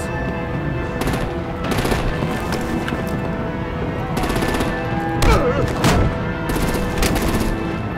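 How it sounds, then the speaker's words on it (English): Continuous artillery and machine-gun fire in the Batman: The Enemy Within video game, loud dense bursts of rapid shots rolling on for several seconds with heavier blasts mixed in. "Break out the artillery and disable their vehicles!"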